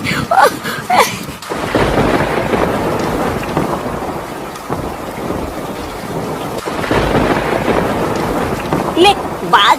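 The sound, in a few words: rain starting with thunder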